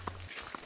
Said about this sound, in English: The sounds of footsteps walking,